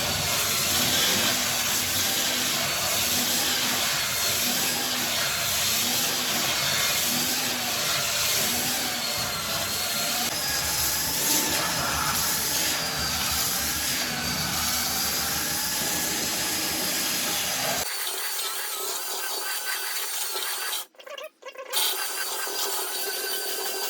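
Ryobi R18BS cordless belt sander running steadily at close range, a continuous loud whirring hiss with grinding texture that holds for most of the clip before cutting off abruptly, leaving quieter background and a brief knock near the end.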